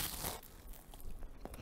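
A crunchy bite into Korean hangwa, a crisp rice snack fried using coarse salt; short dry crackling crunches up close, brief and quiet, with no talking.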